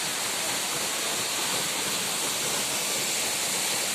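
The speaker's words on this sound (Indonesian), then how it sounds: "air terjun dulu Kediri" Waterfall in Kediri pours in a steady, loud, unbroken roar of rushing water filling the whole clip, with no voices on top.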